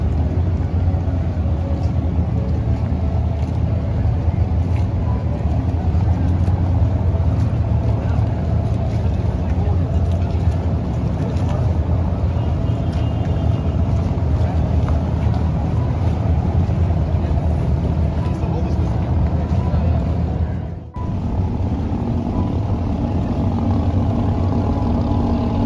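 An abra boat's engine runs steadily on Dubai Creek, a loud, constant low rumble heard from on board throughout, with a brief dropout near the end.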